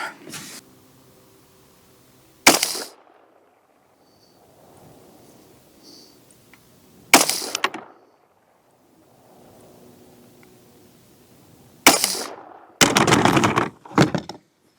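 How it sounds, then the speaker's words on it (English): Gunshots are fired at self-healing targets outdoors, with three loud, sharp single shots spaced several seconds apart. A quick cluster of shots follows near the end, with quiet pauses between them. "Then we'll reset and shoot the other targets."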